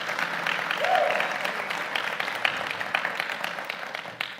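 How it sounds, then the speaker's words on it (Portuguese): A crowd gives steady, continuous applause, a dense patter of many hands clapping at an even level from start to finish. "Olha lá, ele está ganhando palmas"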